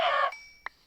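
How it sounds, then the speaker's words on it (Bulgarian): A brief chicken cluck, a short bright squawk followed by a faint click, sounding like a game sound effect. "Кокошка."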